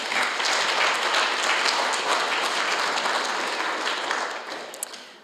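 A church congregation applauds their newly introduced church council, a steady wash of clapping from many hands that holds even and then tapers off toward the end, with no voices over it.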